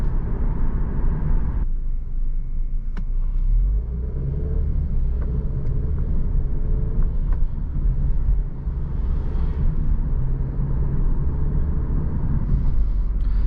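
An Alfa Romeo Giulia sedan cruising in a straight line on the road, heard from inside as a steady, loud low rumble of engine and tyre noise that holds evenly throughout with no talking.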